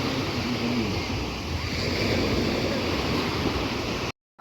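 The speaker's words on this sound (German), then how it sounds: "das Meer und der Strand ist ja wirklich, wirklich schön" Sea waves wash continuously onto a beach in Barbados, a steady roaring surf with some wind buffeting, ending abruptly in a brief silence.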